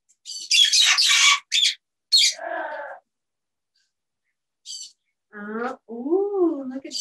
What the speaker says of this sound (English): Look at the little birds.